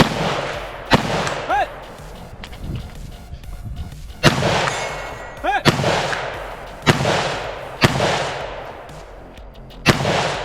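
Loud, sharp gunshots fired at square pistol steel targets during a run-and-gun competition, several spaced reports each followed by a ringing metallic clang, with some faint voices between shots.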